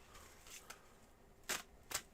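Tarot cards being shuffled by hand, soft papery riffles in a few short bursts, two louder flicks near the end over a quiet background.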